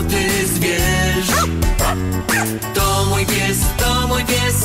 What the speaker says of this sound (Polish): Biega, szczeka, dzieci obwąchuje i niegrzecznie podskakuje.